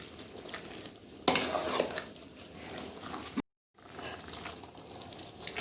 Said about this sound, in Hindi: इनको मिक्स करके हम ढक्कन बंद कर देंगे।